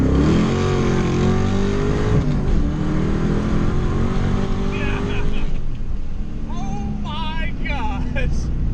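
A Ford Mustang's 4.6-liter V8 revs hard on a wet shot of nitrous, a loud sustained engine roar with rising pitch sweeps toward the end, and someone talking over it.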